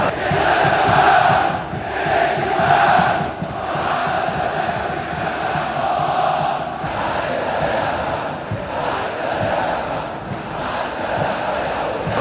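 Football supporters chanting and roaring in the stadium stands during Al Ahly vs Zamalek, a massed rhythmic chant of thousands rising and falling in waves, loud and continuous, with occasional sharper shouts over the crowd.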